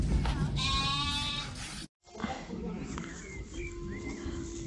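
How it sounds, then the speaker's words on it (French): Sheep, ewes and lambs in a meadow on a farm, with several bleats rising over a noisy outdoor background, one sharp break partway through, birds cooing, and voices faintly audible. "On a mis quelques moutons, brebis et agneaux dans la bétaillère et ils ont rejoint la nouvelle prairie."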